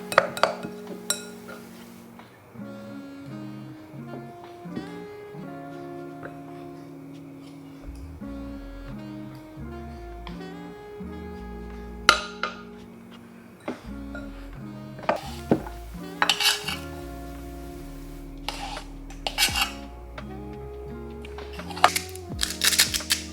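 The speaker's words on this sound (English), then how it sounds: "Go ahead and add in the remainder flour and continue to mix it together." Flour is mixed into ube mochi muffin batter in a bowl at home, with irregular clinks and scraping knocks of a utensil against the bowl, some sharp taps, and steady background hum.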